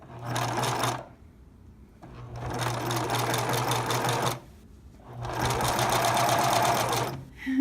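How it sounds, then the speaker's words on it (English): A sewing machine zigzag-stitches stretchy fabric in three loud, close runs of rapid mechanical whirring, each a few seconds long, separated by brief pauses. "You don't really want to pull on it when you're sewing stretchy fabric"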